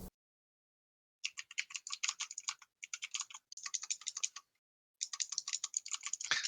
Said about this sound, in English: I'm typing into the ROG Thrust Discord.